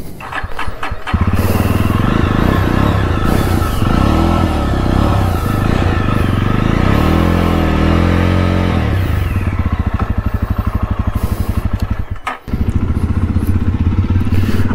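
A Jawa 42 motorcycle engine fires up and settles into a loud, steady thumping idle with close, continuous exhaust pulses, briefly dipping near the end before running on.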